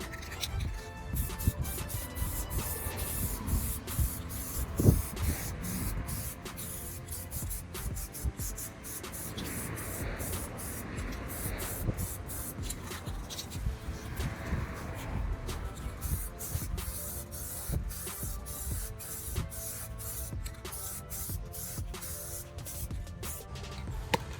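Superwrap bronze color coat being sprayed onto car wheels outdoors, with quiet bursts of aerosol hiss and rustling that start and stop across the stretch, faint and close, with no one speaking.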